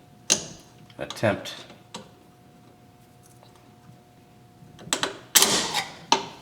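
Needle nose pliers clicking and scraping against metal springs while working on the rear drum brakes of a 2001 Mazda Protege, a few sparse clanks and snaps near the mic with someone speaking quietly in between.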